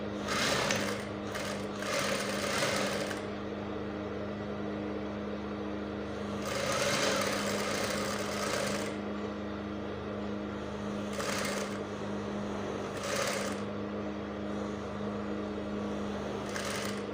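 A sewing machine runs a half-inch seam on a peplum top, a steady mechanical whir with a low hum, in several bursts of stitching separated by short pauses, close and alone with no talking.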